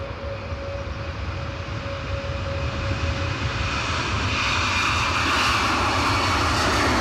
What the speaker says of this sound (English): lined up in pole position is the Delta Airlines 767-300, shortly to be spanking it down the runway and returning to Atlanta.